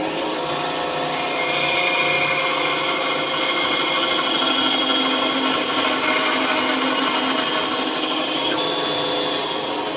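A hacksaw cuts through a fork ring clamped in a vise, giving a steady, close, continuous rasping scrape that runs unbroken for the whole stretch.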